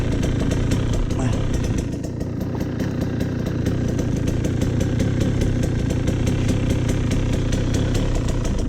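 A KTM 125 SX small enduro motorcycle idles close by with a steady, rapid two-stroke putter that stays loud and even throughout.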